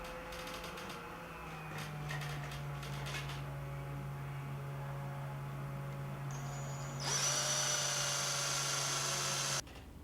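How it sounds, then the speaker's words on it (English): A power drill bores a hole through a steel strap and 1-inch square steel tube, a steady whining motor hum with a brief higher-pitched burst near the end, close and alone. "Match drill the hole through the strap and 1-inch square tube."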